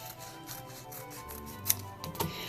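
Scissors trimming a paper tree cut-out for a winter landscape art project, a few close soft snips with light paper rustling.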